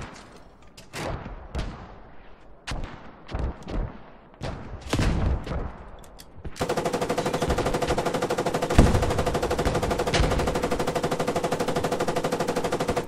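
A tank's guns fire in a war video game: a string of separate heavy shots, then a dense, sustained burst of rapid automatic fire, loud and close, with no talk.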